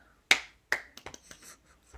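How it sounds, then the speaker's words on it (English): A single sharp hand clap rings out close and loud, followed by a second clap and a few softer taps, with no voices. "Singular clap."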